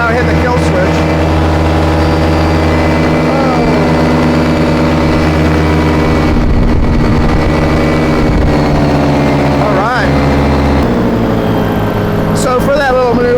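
Paramotor engine drones loudly and steadily during a flight over countryside, its pitch shifting and dipping midway before it surges again.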